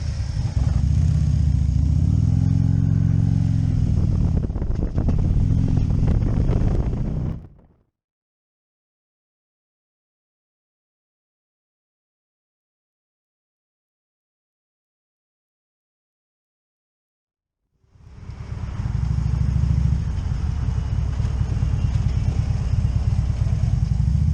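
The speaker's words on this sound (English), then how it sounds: "You gotta love a 103 twin cam." A Harley-Davidson motorcycle with a 103 Twin Cam engine runs with a loud, close, steady rumble. It cuts off abruptly into total silence for about ten seconds, then the engine sound returns just as strongly.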